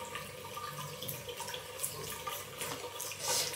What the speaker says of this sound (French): c'est donc le bruit de l'eau qui coule